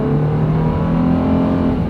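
A heavy vehicle's big engine pulls away from a stop on a small drag strip, a steady loud low rumble that holds strong and even throughout, with no voices.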